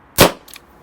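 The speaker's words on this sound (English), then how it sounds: "Looks like a dry fire." A Colt 1911 A1 pistol gives a single sharp dry-fire click, close and crisp, followed by a faint small metallic tick.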